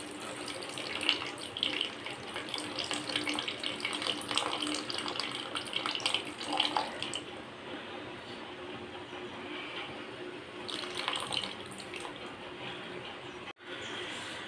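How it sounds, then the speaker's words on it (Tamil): Tamarind water pours into a pot of lentil rasam, a continuous splashing trickle that runs for several seconds, thins out, then briefly surges again before stopping. "நல்லா மசிய வதங்கினதுக்கப்புறம் புளித்தண்ணி கொஞ்சம் ஊற்றிடணும்"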